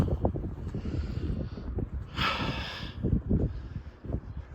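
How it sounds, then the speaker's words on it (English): Gusty wind buffeting the microphone outdoors beside a 1990 Cadillac Brougham, with rumbling low gusts and one brighter hissing rush midway, all fairly close and loud, with no speech. "Like I said, this wind, man."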